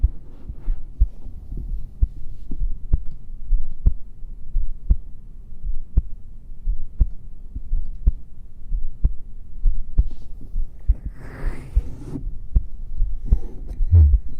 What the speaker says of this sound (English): You're welcome with the heartbeats.